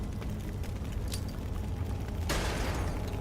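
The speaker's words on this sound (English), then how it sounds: "Now let's go for the explosion." A loud video game explosion in a tactical shooter bursts in with a sudden broad roar partway through, layered over a steady rumbling backdrop of game sound.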